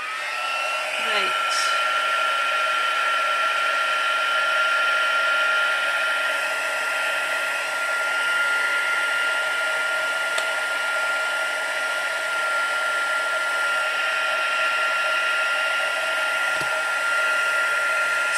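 Embossing heat tool melting clear embossing powder on a stamped card, a steady blowing whine held at constant pitch for the whole stretch, close and fairly loud with no break.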